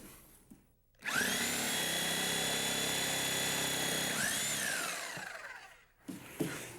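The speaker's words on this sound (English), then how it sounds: "I'm going to insert this saw. This is called a reciprocating saw because the blade reciprocates back and forth." A reciprocating saw cuts through a wooden stud in one continuous loud whining buzz of about five seconds, starting abruptly, bogging slightly mid-cut and winding down, followed by light clunks.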